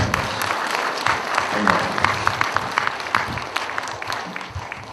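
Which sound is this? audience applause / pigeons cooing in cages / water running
audience applause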